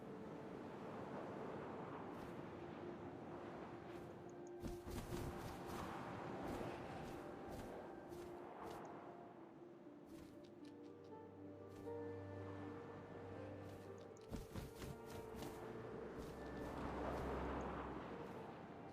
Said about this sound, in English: First, all I heard was the wind.